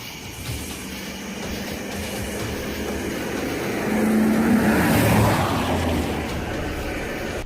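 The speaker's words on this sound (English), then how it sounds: "The sound of an approaching engine turns out to be nothing more than oncoming traffic." Engine of oncoming traffic approaching on a bridge at night, a steady broadband rumble that swells louder toward the middle and then eases slightly, with no voices.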